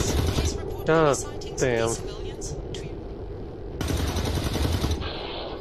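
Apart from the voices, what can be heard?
gunfire from the video game XCOM 2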